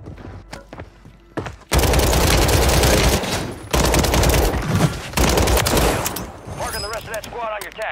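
Gunfire in the video game Call of Duty on Rebirth Island, loud sustained bursts of rapid automatic fire broken by short gaps, with scattered single shots before and warbling effects near the end; a voice speaks briefly.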